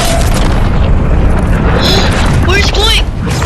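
A rocket launches and explodes in Fortnite, with a loud sustained rumbling boom and roar filling the scene while people talk excitedly over it.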